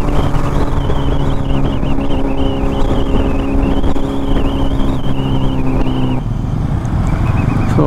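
A Kawasaki H2 superbike on an Indian road ride gives a loud, steady engine drone with shifting, revving pitch throughout and no talk.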